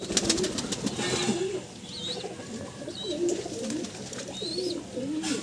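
Several pigeons from Andhra Pradesh coo in a loft in low, rolling phrases, close by and overlapping, with occasional faint chirps and light rustling in the background.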